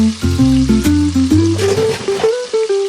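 Chicken for a curry with broccoli fries to brown in a pan with a close, crackling sizzle, along with tonal clinks and scraping from stirring.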